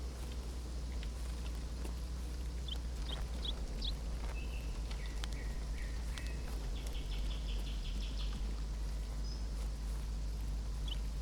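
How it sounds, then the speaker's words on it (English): Ambient birds in the Escape from Tarkov video game: scattered, faint chirps and short calls over a steady, rain-like hiss and low rumble that runs throughout, with no talking. "The only thing you can hear is birds and rain."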